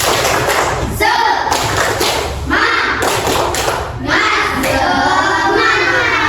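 Schoolchildren in an Indonesian classroom do a rhythmic clapping chant, with steady hand claps and thumps mixed with their voices in a loud, continuous burst that dips briefly between phrases.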